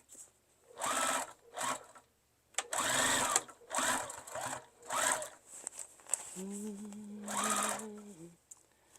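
Sewing machine stitching the handle of a tote bag in several short whirring bursts separated by pauses, close and clear, with a brief low hum near the end.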